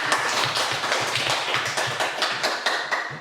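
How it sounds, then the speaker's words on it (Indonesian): Rapid, steady clapping from a classroom group, crisp and fairly close, filling the whole stretch without talk. "Ya, tepuk tangan untuk kita."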